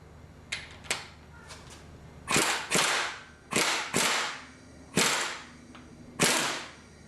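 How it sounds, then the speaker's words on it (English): An impact gun loosening the cam gear bolt on a Nissan KA24DE engine, heard as a series of sharp, loud hammering bursts: two quick taps, then five longer rattling blasts separated by short pauses, nearby, with no talking. "Since we couldn't break ours loose by hand, we're going to use an impact gun."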